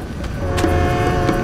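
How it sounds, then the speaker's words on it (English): A moving train in the video game Crysis Warhead: a steady, loud rumbling drone with a tonal hum and a few faint metallic clanks over it. "The train's moving."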